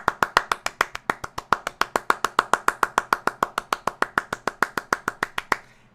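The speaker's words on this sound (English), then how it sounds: "Round of applause for Jace." A round of applause for a player named Jace in a gaming review: steady, rapid hand clapping, about thirty crisp claps evenly spaced over six seconds, close and loud, with no talking.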